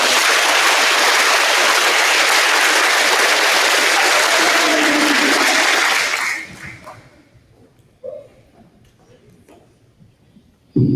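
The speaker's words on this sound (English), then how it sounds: "Give them a round of applause." Audience applause for fifth grade award winners at a school recognition ceremony, loud sustained clapping from a crowd for about six seconds, then fading into quiet room sound with a brief voice.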